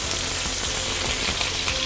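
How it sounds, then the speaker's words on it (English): Tofu pan-fries loudly in hot oil in a pan, a dense, unbroken sizzle with spattering crackle filling the whole moment. "what we want to slowly pan fry all the sides of the tofu until golden brown"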